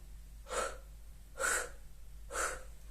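A voice imitates panting during an English pronunciation lesson on the H sound: three short, breathy exhalations spaced about a second apart, close and clear over a faint steady hum, with no speech.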